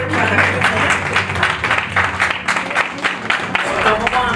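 Continuous loud applause from the audience at the Africa Golden Icons Awards ceremony in Morocco, a thick rattle of many hands over tonal background music, with no pause.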